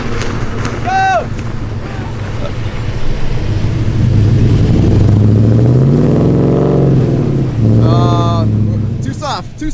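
Two four-wheel-drive pickups on mud-terrain Toyo and Nitto tires, a 6.2 gas and an L5P diesel, rev hard in a tug-of-war, a loud sustained rising engine roar beneath shouting voices and wind buffeting.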